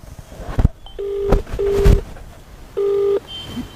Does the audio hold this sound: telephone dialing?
yes